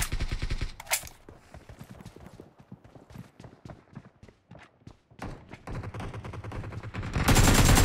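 Rapid gunfire in PUBG Mobile on the Santorini map, a fast rattling string of sharp shots that starts and stops, loud and close, with a heavier burst at the end.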